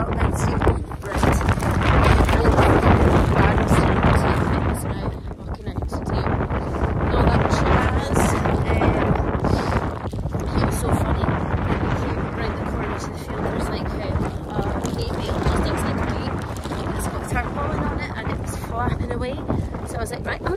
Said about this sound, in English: Breezy, as you can possibly tell